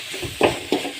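Shredded tuna filling being stirred in a hot pan, two short scraping strokes of a spatula over a low background sizzle.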